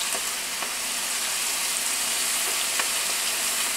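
Chicken wings frying in hot oil with a steady, dense sizzle that fills the clip, broken by a few faint crackles and pops, alone with no talk.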